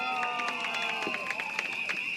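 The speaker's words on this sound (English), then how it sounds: "Let's also give our loudest round of applause and support to our local speakers" A large crowd cheers and applauds continuously at an outdoor PAP general election rally at Temasek Junior College in Tampines, a dense, steady roar of clapping and voices that stays loud and even throughout, with no pauses.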